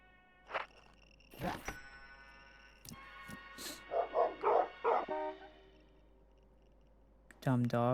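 Dogs bark in a horror video game, a quick cluster of sharp yaps in the middle amid clicks and other game noises, with a louder burst of sound at the end.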